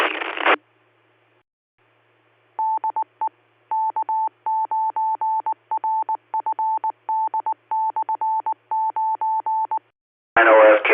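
Touch-tone telephone dialing during a storm-spotter radio net, a long string of short evenly spaced beeps in quick clusters, loud and clear, framed by brief bursts of radio voice at each end.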